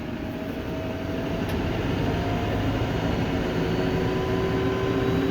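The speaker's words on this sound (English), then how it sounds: "We're gonna turn PTO on. Okay, get up to 540." A tractor's PTO runs at 540 rpm, driving a hay mower in a teff grass hayfield, making a steady, loud mechanical drone with a faint whine that holds unbroken throughout.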